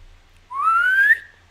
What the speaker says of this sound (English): I didn't mean to whistle.